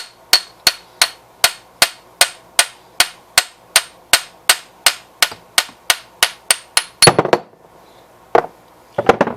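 A hammer strikes a worn deck spindle shaft from an old-style 50-inch Gravely deck again and again, giving loud, evenly spaced metallic clangs about twice a second, then a scraping clatter and a few last blows.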